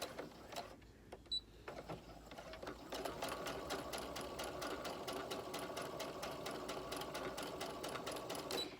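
A sewing machine stitches a fabric mask with a pocket for a filter, running in quick, rhythmic bursts of rapid ticking needle strokes, with a short pause near the start before it runs steadily, fairly quiet and close.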